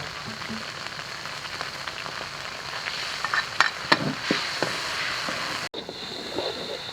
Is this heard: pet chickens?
no